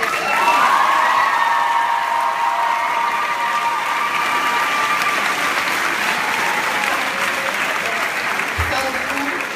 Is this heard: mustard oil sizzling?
no